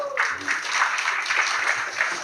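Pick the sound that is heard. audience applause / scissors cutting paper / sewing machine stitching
audience applause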